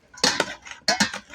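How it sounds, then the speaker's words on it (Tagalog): A cabbage, tomato and cucumber salad is tossed with mayonnaise, giving two short bursts of utensil scraping and clinking against a dish. The sound is close, with no talking. "Salad pa rin hinahalo ko."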